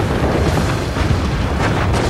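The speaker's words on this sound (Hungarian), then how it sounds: "A repülők közelettével az acélerőd 52 légvédelmi ágyúja tüzelni kezd." The battleship Bismarck's anti-aircraft guns opening fire on approaching aircraft, a dense, continuous rumble of booming bursts and blasts, loud and overlapping throughout with no voices.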